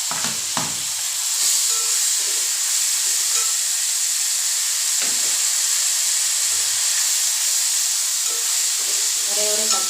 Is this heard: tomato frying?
yes